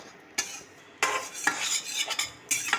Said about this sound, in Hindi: पहले बेसन डाल के ही भुनेंगे